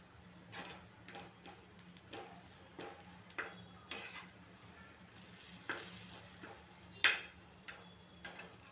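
Turmeric and Kashmiri chili powder fry quietly in oil in a home kitchen, a soft sizzle with scattered light ticks and clinks of a spoon against the pan; no talk.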